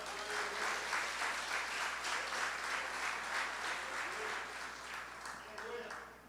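Church congregation applauding during a Portuguese-language worship service, a steady, dense wash of clapping filling the whole stretch at moderate loudness, with a few voices mixed in.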